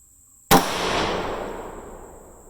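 One sharp, loud rifle shot from a .223 Remington firing 75-grain boat-tail hollow-point handloads at an outdoor range, followed by a long rolling echo that fades over two seconds.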